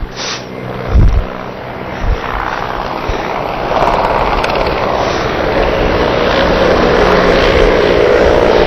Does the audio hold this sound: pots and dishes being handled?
no